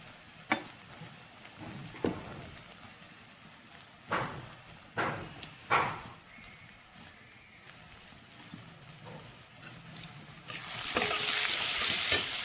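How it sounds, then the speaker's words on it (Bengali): Onions frying in hot oil left over from frying potatoes, with sharp spoon-against-pan stirring knocks at intervals and a sizzle that swells loud and steady near the end. "ওই ভাজা আলুর তেলের মধ্যে কিছু পেঁয়াজ ঢেলে দিব।"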